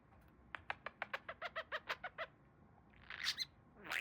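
A budgie parakeet gives a quick run of about a dozen evenly spaced chirps, then a couple of harsher squawky calls, close and fairly faint in a quiet room.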